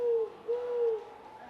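A person whistles an imitation of a whippoorwill call: two smooth, steady tonal hoots with a short break between them, close and fairly quiet against faint background noise.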